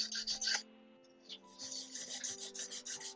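Rhythmic, close rasping strokes of an aggressive metal file on a wire-wrapped crystal pendant, a short burst, a brief pause, then a longer run of even strokes.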